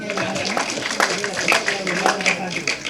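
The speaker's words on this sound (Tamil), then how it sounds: "இந்த கைத்தட்டல்கள் அனைத்தும் பல்ஸ் அந்த படத்தோட டீமுக்கு தான் போய் சேரும்." Audience applause at a Tamil film event stage for the movie Pulse, dense sustained clapping from a crowd filling the space, steady with small surges throughout.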